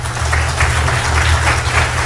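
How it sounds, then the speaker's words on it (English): Applause from a lecture audience after a panel discussion, a steady wash of many hands clapping at moderate loudness over a low rumble, without talk. "So let's have a round of applause."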